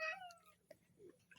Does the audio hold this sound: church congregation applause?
no